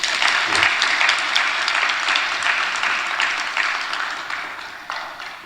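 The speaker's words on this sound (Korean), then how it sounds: "박수 한번 쳐드려요." A church congregation bursts into sustained applause, many hands clapping densely together, loud and close at first, then gradually thinning and fading over several seconds.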